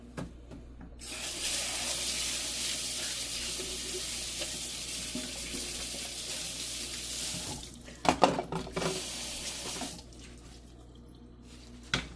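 Water from a kitchen tap runs into a sink for hand washing dishes such as soup containers with Dawn Platinum dish soap. The tap flows steadily for several seconds, then stops, followed by clattering and splashing as items are handled.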